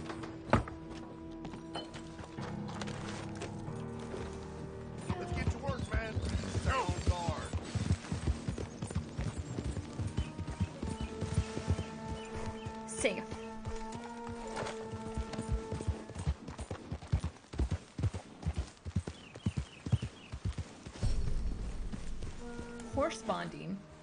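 Hooves clip-clop in a loose, uneven rhythm while people talk over them, with music-like tones and a low hum in the mix.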